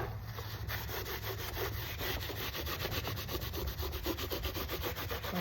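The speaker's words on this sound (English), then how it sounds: "I'll go in with the aging wax. And wipe off the excess." Steady rhythmic rubbing as a cloth wipes aging wax off a piece of upcycled thrift-store home decor, close and continuous with repeated back-and-forth strokes and no talk.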